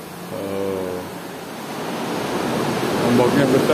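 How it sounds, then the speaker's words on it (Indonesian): Big sea waves crash and wash against a rocky coastline near a cave where seawater flows through a hill. The surf is a broad, steady roar that swells toward the end, with a voice briefly audible over it. "Ombaknya besar bosku."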